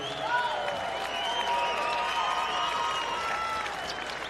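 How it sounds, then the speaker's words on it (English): A crowd at a Hawaii MMA event applauds and cheers the two fighters after the bout, a steady wash of clapping and crowd noise throughout, with shrill whistles or cheers rising above it. "another round of applause for these two warriors"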